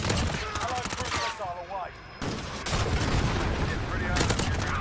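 An MP5 submachine gun fires in Call of Duty team deathmatch, rapid bursts of automatic fire close and loud, broken by a short gap, then more sustained strings of shots.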